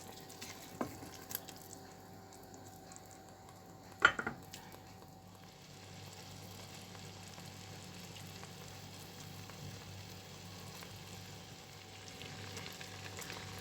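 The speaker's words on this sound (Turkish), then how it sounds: "Bir 10-15 dakika daha kaynatıp altını kapatacağım." Fig jam with lemon salt added simmers in a pot, a steady low bubbling hiss with a couple of brief clinks early on, continuing quietly and evenly without talk.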